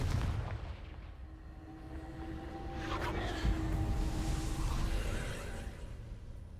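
A Confringo fire spell explodes in the Hogwarts Legacy video game, a dull booming blast that swells midway and rumbles on over a continuous game soundscape.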